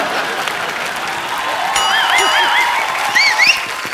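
Sustained studio audience applause at a comedy show, dense and steady throughout, with a few faint cheers and whistles rising over the clapping.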